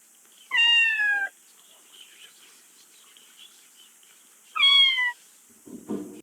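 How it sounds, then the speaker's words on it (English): Two clear, fairly loud meows from a cat in the OFF Remastered video game, spaced about four seconds apart over quiet ambience, followed by a short low rustle at the end. "Before we climb the ladder to the roof, we can hear a very distinct meowing."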